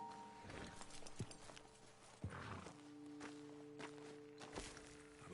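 Horses walking in the Red Dead video game, with scattered clip-clop hoof thuds at an uneven pace and a steady low tonal hum underneath, fairly quiet overall.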